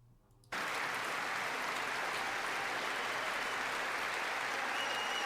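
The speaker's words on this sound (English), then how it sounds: "Look at you clapping." Sustained standing ovation in the chamber of Congress during an address by King Charles, dense applause starting abruptly after a brief quiet moment and continuing loud and steady throughout.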